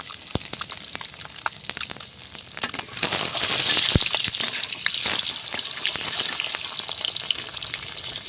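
Eggs sizzle steadily in a hot pan, with crackling pops and spits over a constant hiss, swelling louder partway through.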